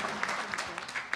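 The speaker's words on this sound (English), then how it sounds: "Let's give them a round of applause again." Audience clapping at a Maha Shivratri celebration gathering, a short burst of moderately loud applause with sharp individual claps standing out, fairly near and with no voices over it.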